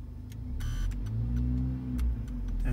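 A warmed-up 2016 Mercedes GLA 45 AMG engine idles steadily with its exhaust valve disconnected, a close, even low rumble with a few brief clicks and ticks over it, no talking.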